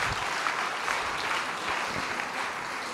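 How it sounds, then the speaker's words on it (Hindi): Audience applause at a church sermon, a dense, steady wash of clapping from a crowd that continues throughout at moderate loudness. "जोरदार ताली।"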